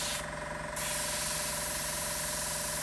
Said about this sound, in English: spraying white onto a white thing is very hard